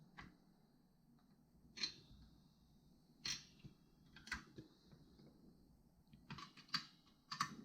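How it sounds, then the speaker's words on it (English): Four screws fasten a CPU fan onto a desktop motherboard, heard as faint, sparse clicks and small metallic ticks from a screwdriver at irregular intervals, quiet and close, with no talk. "I'll go ahead and screw the fan to the motherboard."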